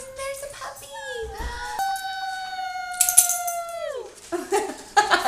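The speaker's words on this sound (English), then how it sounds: "Oh, there's a puppy!" A puppy lets out a run of high, sliding whines and a drawn-out howl-like cry that bends downward, close by, with a few brief noisy bits around it.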